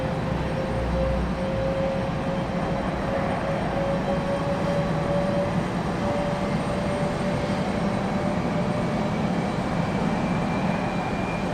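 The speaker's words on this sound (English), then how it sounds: "One of the little mountaineers coming in for UPS in the Cessna Grand Caravan." A UPS feeder Cessna Grand Caravan single-engine turboprop lands at Raleigh-Durham International, heard as a steady, broad engine roar with a faint sustained whine throughout, continuous and moderately loud, with no voices.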